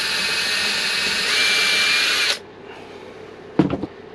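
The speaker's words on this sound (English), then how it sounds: "So pre-drill." Power drill pre-drilling thin, fragile 8mm cladding in a Fiat Ducato camper van conversion, a loud steady whirring that runs about two seconds and stops, followed by a short clatter from handling.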